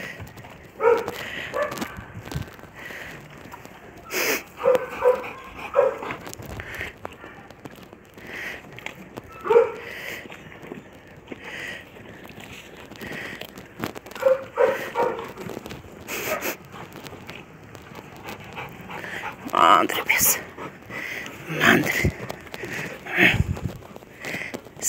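A lively chow chow-type dog gives scattered sharp barks and whimpers, loud and close, in irregular bursts over about twenty-five seconds, with occasional quiet voices nearby.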